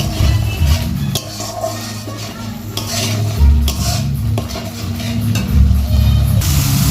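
Spice paste with chili powder and salt fries in a pan while a spoon stirs and scrapes against the metal, giving a steady close sizzle broken by clinks and scraping strokes, with no talk.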